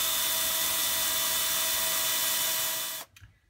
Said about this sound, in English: Now that I have my pilot holes drilled,